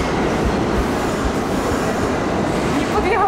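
A New York subway train rolls steadily into a station with a continuous loud rumble and rattle of wheels on track, a faint squeal rising near the end.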